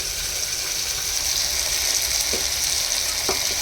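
Mixed vegetables for veg pulav sautéing in a pressure cooker, a steady close sizzle with a couple of brief stirring scrapes near the end, no talk.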